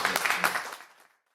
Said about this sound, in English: So I'll give you Geoff Scott. A round of applause.